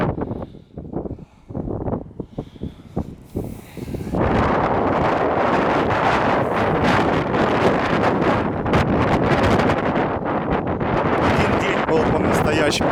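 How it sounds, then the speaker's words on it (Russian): Strong, gusty wind in Alanya buffets the microphone with a loud, continuous roar after a few seconds of choppier gusts, steady and unbroken to the end. "просто невозможно идти с открытыми глазами навстречу ветру, реально просто сильные порывы такие."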